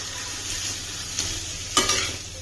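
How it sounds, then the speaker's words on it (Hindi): Mixed vegetables for chow mein fry and brown in a pan, a continuous close sizzle with two brief stirring scrapes and no talk. "हम इसको पकाएंगे, इसको थोड़ा ब्राउन कर लेंगे इसको, ताकि हमारे सारे वेजिटेबल्स पक जाएं अच्छे से।"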